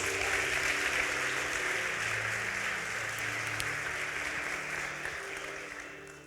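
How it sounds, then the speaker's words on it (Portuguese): Sustained applause from a church congregation during a Sunday sermon, a dense even wash of clapping that fades slightly toward the end, with no voices over it. "Aplauda Jesus."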